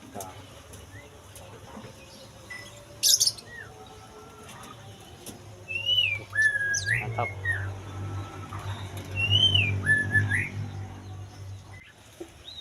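Pleci white-eyes give thin, high chirps and whistled calls inside an aviary, scattered across the clip over a steady low hum, with a person speaking briefly.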